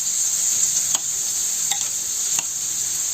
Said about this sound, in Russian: Гречку снова перемешиваю.